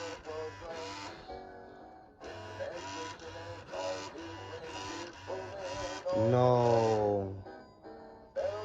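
A broken hip-swing Santa toy grinds with a buzzy, rhythmic mechanical whir that pulses repeatedly, followed by a brief louder whining burst near the end, recorded close with a short spoken word.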